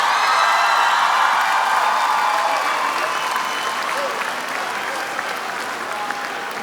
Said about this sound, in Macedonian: Дајте ми еден аплауз, бе, молам.